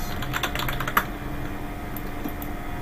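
Rapid, steady keystrokes on a computer keyboard while entering survey data, close and clear with one sharper tap near the middle, no talking.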